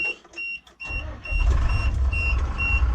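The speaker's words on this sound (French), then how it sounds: "le bruit du moteur est quand même mythique" Mercedes Tourino bus engine running, a loud low rumble that rises after a quiet start as the engine comes up and holds steady, with a faint repeating high beep above it.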